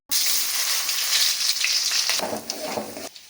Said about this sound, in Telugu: ఇప్పుడు ఆనియన్ వేసుకుందాం